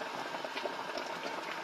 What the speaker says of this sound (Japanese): で今沸騰させてます